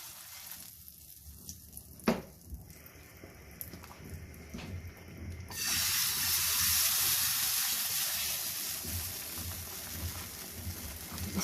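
Butter tadka with cumin and cooked tomato poured over rajma, a loud burst of frying sizzle and hiss that swells midway and keeps crackling steadily, with soft stirring and clinks before it.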